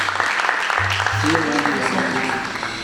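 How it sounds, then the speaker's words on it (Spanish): A youth ministry congregation claps in applause for God, a steady mass of clapping with voices and tonal sounds from the room mixed in, fairly loud and continuous. "Denle el aplauso como a Él se lo merece."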